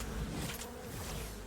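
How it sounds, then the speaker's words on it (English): A buzzing swarm of wasps or fireflies hurled at a player in Fortnite Zero Build, a dense, steady insect drone that stays faint throughout with no voices. "Someone just threw fireflies at me. Or wasps."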